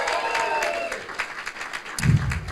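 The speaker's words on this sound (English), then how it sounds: "Sally and Ruth, big round of applause" A summit audience gives a round of applause, scattered clapping rising and thinning over a couple of seconds, with a low thump and crowd murmur near the end.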